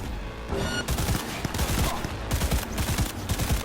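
The Widowmaker gun in Cyberpunk 2077 fires in rapid, loud bursts of shots layered under the game's other effects. The gunfire runs almost unbroken with short gaps between volleys.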